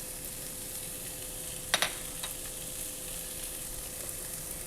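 Chicken pieces browning in a hot frying pan keep up a steady, fine sizzle with a couple of brief clinks of stirring, and no talking.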